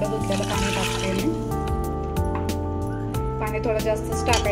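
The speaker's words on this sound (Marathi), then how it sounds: "आणि मिक्सरचं भांडं धुतलेलं पाणी टाकते मी" Rinse water from a mixer jar is poured into a pan of soaked peas and potatoes, a soft continuous trickle partly masked by steady background music and a voice.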